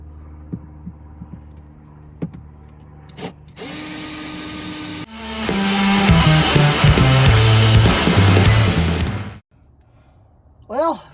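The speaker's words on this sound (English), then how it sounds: "This cobalt drill bit is it's actually really nice. It's getting warm though." A cobalt drill bit bores into a steel factory seat rail from a Grand Marquis or Crown Vic, a loud whining, grinding run of about four seconds after brief buzzing and clicks, then stopping.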